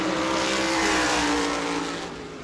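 A race car on a qualifying lap at New Smyrna Speedway roars past, its loud engine tone swelling as it nears and then easing slightly as it pulls away, with no voices over it.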